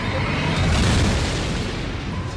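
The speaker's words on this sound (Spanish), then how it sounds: "Al morir, algunas estrellas producen una supernova." A supernova explosion rendered as a sound effect: a loud, sustained rumbling boom with dense low-end roar that swells and then slowly fades over a couple of seconds, with no voices.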